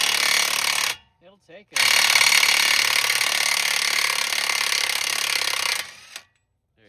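A DeWalt 1/2 inch impact wrench hammers loudly on a truck axle nut, a short burst followed by a long sustained rattling run of several seconds, with someone speaking briefly in the gap.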